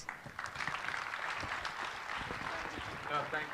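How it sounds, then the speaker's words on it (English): An audience at a Sindhi stage show in Dubai applauds in a steady, moderately distant patter of clapping, with some faint voices mixed in. "we thank you all for being an excellent applauding audience"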